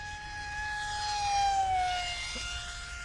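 A Zohd Alpha Strike MK III RC plane passing overhead, its electric motor giving a steady high whine that swells as it nears and then slides downward in pitch as it moves away.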